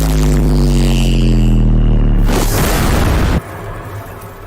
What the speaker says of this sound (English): He feels that the sounds should attack with bass.